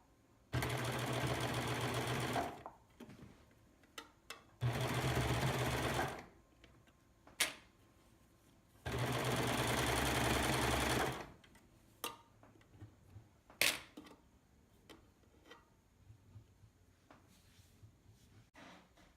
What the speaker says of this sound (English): I'm going to do a 4-thread overlock all the way around the neckline